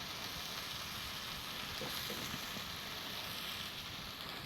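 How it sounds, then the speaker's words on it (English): Squash and cabbage frying in a Ninja Foodi, a steady, even sizzle and crackle throughout, close and moderately loud, with no speech. "Our squash is browning up. Our cabbage is starting to wilt down, getting a little dark on the edges."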